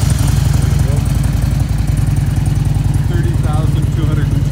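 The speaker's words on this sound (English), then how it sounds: "So let me go around and fire this one up for us so we can hear it." 2003 Harley-Davidson Electra Glide Ultra Classic 100th Anniversary V-twin running at a loud, close, steady idle with a deep, lumpy throb, while a person talks over it.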